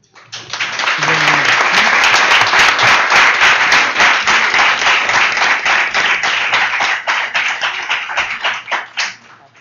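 Loud, sustained applause from an audience at an International Women's Day event, dense clapping that keeps going for several seconds before thinning out into scattered claps.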